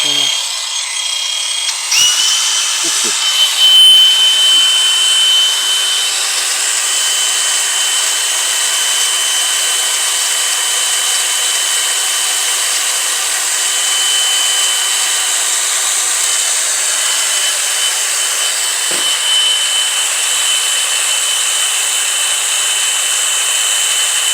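A cordless angle grinder, DeWALT, Milwaukee or Chuang, runs at full speed with a loud, steady high-pitched whine that holds almost the whole time, with a few faint knocks and brief voices in the background.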